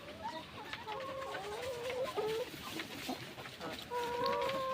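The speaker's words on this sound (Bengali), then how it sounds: "নতুন বুসি পেয়ে দেখেন মুরগিগুলো কত সুন্দর করে খেলাধুলা করতেছে দেখেন" Layer hens cluck and murmur on fresh bedding in a poultry house, with several birds calling in repeated short phrases, close and moderately loud over a soft rustling background.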